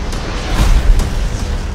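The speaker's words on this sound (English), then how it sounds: "It's the 4th of July, so let's show them some fireworks." Fourth of July fireworks going off, a dense rumbling roar of overlapping booms and crackles that swells in the middle, loud and continuous with no clear separate bangs.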